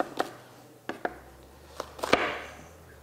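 A knife cutting through a bulb of fennel on a cutting board gives a handful of sharp, separate chops spaced irregularly, close and fairly quiet.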